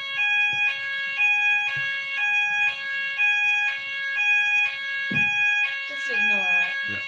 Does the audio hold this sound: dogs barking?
no